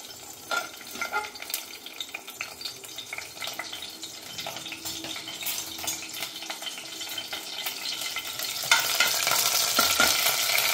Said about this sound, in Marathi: बघा आता मी या तेलामध्ये कढीपत्ता टाकते.